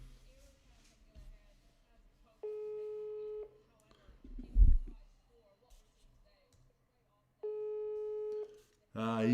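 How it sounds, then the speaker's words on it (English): A telephone busy signal sounds during a call placed by rugby match commentators, two bursts of steady buzzing tones separated by a pause, with background talk and a cut off voice at the end. "Let's phone old Vern, see what's going on his feed"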